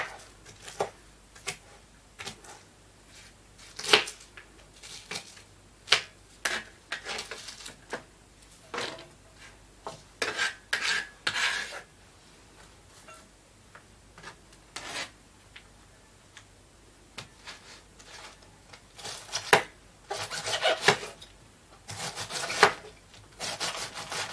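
A knife chops cabbage repeatedly against a board, irregular bursts of crisp crunching cuts with short pauses between, close up and fairly quiet.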